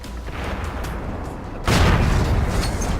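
Tank cannon fire from the World of Tanks video game: a single loud, broadband boom bursts in about halfway through and rings out over steady game rumble.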